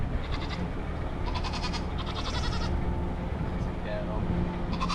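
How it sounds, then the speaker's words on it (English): Goats bleating on a farm, a few short wavering bleats heard at moderate distance over steady outdoor rumble and background noise. "We got some goats."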